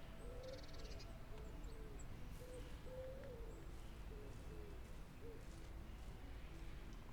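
Birds calling in the medieval countryside of the game Medieval Dynasty, a series of faint repeated hoots and coos at moderate distance over a steady low ambient hum.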